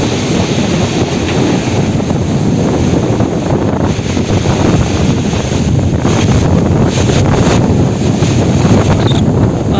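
Strong, continuous roaring typhoon wind from Typhoon Rolly in the Philippines buffets the microphone with steady broadband rumble for the whole stretch, loud and unbroken, no voices.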